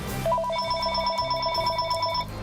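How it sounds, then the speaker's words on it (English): A telephone rings in clear repeated electronic trills at moderate loudness, several bursts in a row over a low background hum, with no talking. "Did you ever go to answer your phone and it only rings once?"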